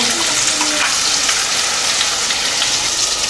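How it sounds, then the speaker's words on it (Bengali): Ground onion paste from two medium onions frying in oil for chicken rezala, a loud, steady, dense sizzle throughout with no pauses and no talking. "পেঁয়াজটাকে খুব ভালো করে ফ্রাই করে নিতে হবে"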